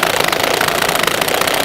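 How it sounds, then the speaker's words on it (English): DeWalt cordless drill straining under heavy load with its clutch slipping, a loud, continuous rattling mechanical drone with a knocking, vibrating texture throughout, no voices. "DeWalt is just not liking this at all."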